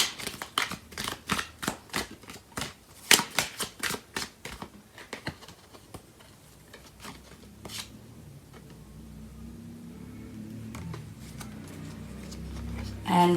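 Tarot cards riffle and slap in a quick, close series of crisp shuffling bursts, then soft handling and drawing sounds as the rhythm trails off.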